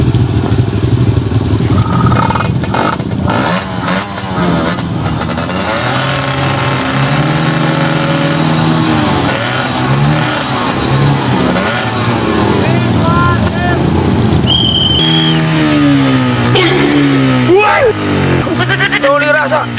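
A motorcycle engine revs hard and steadily throughout, loud and close, with rising and falling pitch sweeps under constant overlapping talk and shouting.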